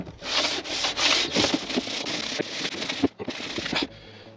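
Hand scraping of a wood surface on a benchtop jointer-planer build, a steady run of close, rasping strokes with brief pauses, stopping near the end.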